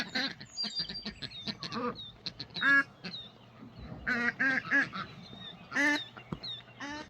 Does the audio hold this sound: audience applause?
no